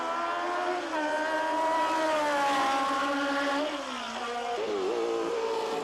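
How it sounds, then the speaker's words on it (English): Race car engines at Mosport Park during a 1985 Can-Am race, including a BMW-powered car, a loud sustained high-revving drone with rising and falling pitch as the cars run the circuit. "His BMW engine sounds as strong as ever"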